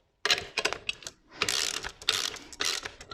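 Nuts being tightened on the handwheel of a Handi Quilter longarm quilting machine, a close, quiet series of ratcheting metallic clicks and turns in several short bursts.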